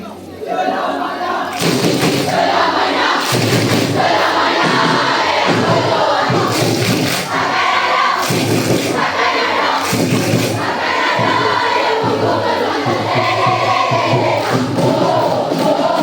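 A school sports crowd at a secondary school fun run in Kajang cheers and chants loudly and continuously, with rising surges of massed young voices and occasional thumps.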